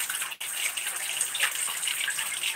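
Water runs steadily from a tap, a continuous close rushing and splashing, likely over a child's head or feet as they are washed, with no talking.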